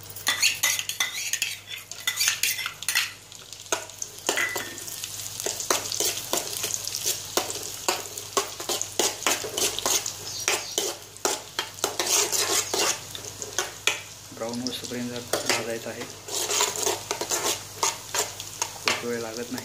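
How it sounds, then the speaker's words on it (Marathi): Dry fruits roasting in two spoons of ghee for vermicelli kheer, stirred with a metal spoon in a pan: rapid, repeated scraping and clinking over a soft, steady sizzle, close and busy throughout. "त्यामध्ये आपण घेतलेले ड्रायफ्रूट्स भाजून घेणार आहोत"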